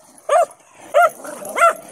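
Three short, sharp dog barks spaced evenly apart, close and fairly loud, with a faint whimper between them.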